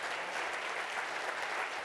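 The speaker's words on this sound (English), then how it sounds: "Yeah, that deserves an applause." An audience at a conference address applauds, a soft, continuous patter of many hands heard from a distance, even and unbroken throughout.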